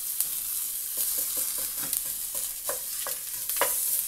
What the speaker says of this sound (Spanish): a acitronar la cebolla